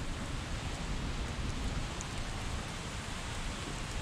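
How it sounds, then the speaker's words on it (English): A steady, dense wash of heavy rain falls beneath a railroad bridge with no voices, a constant broadband hiss that neither rises nor fades. "Rain's coming down pretty hard"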